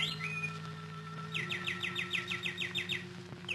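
Birdsong sound effect in a radio drama: a small bird trills a rapid, repeated chirping phrase over a steady low hum, moderately near and clear, with no voices.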